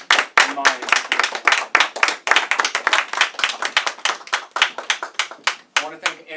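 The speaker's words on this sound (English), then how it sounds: "give everyone a round of applause involved with the company for putting their real heart and mind into this" A theatre company's audience claps in a steady run of sharp, close handclaps, loud and fairly sparse, with individual claps clearly separated and no talk over them.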